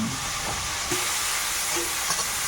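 Fish fries in oil with a steady, dense sizzle and faint stirring knocks, close and continuous with no speech.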